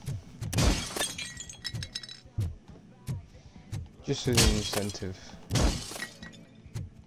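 Glass shattering in the video game Robocop: Rogue City, several loud crashes and breaking bursts spread across the stretch, mixed with character voices talking between the impacts.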